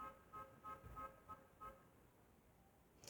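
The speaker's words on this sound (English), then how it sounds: "when I hear the honks" Car horns honk in a quick series of about six short toots, faint and somewhat distant, followed by a quiet stretch of background hum.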